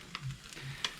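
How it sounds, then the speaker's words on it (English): Chili flakes stirred into spicy Samyang hot chicken ramen, a soft continuous swish with a few brief scraping taps, faint and close, no talking. "It says put flakes and stir well."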